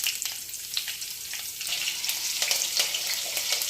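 Onions and cumin seeds fry in oil in a kadai, giving a steady close crackling sizzle with sharp spits and pops throughout.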